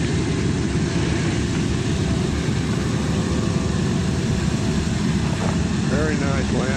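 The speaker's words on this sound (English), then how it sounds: "very nice landing, Jim." A B-25 warbird airplane lands with a loud, continuous engine and wind roar that fills the whole stretch without letting up, and a voice cuts in briefly near the end.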